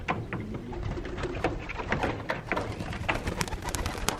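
Pigeons coo softly and repeatedly close by, with fluttering and shuffling sounds mixed in, a busy cluster of birds and no speech.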